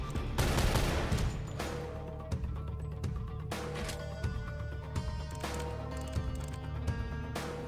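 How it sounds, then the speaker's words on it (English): An enemy firing RPGs in the fast-paced shooter Maximum Action, with booming blasts and gunfire bursting repeatedly over loud, continuous game music. "He's firing RPGs, goddammit."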